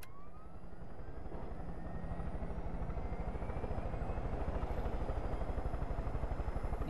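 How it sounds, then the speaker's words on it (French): A helicopter in the video game Far Cry 5 drones with a steady rotor chop and turbine whine, its pitch slowly rising as the engine spools up, close and continuous with no talk. "on va prendre cet hélico là."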